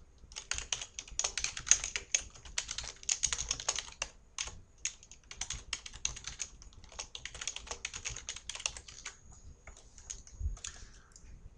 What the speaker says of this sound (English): And let me just type in